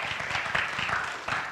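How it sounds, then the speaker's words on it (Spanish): A church congregation claps together in a brief, dense burst of applause, steady and moderately loud throughout with no break. "Dale fuerte el aplauso a Dios."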